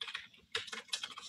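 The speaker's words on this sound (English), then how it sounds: "I'm gonna have to type the HTTPS." Fingers type on a computer keyboard in quick irregular bursts of clicking keystrokes, close and fairly quiet, with no talking.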